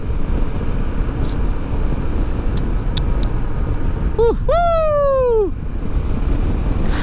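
Royal Enfield Himalayan 450 six-speed motorcycle cruising smoothly at around 4000 rpm, with steady engine drone under heavy wind rush. Near the end a horn-like tone sweeps past.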